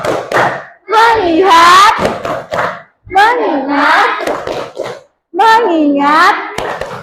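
A fifth-grade class does a rhythmic focus clapping routine, with children's voices chanting loudly in unison in three bursts separated by short pauses, and claps mixed in.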